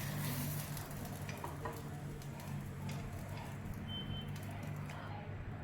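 Sabudana vadas fry in hot oil in a kadhai over a low gas flame, making a soft, steady sizzle with light crackles and ticks. The sound is quiet and close, with no talking.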